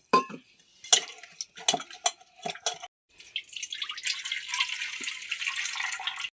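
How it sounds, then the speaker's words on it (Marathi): Potatoes knock and clatter against a metal pressure cooker, then water splashes and rushes steadily as they are rinsed, close by with no talking. "बटाटे कुकरमध्ये आपण आधी पाणी टाकून असं छान धुवून घेऊ"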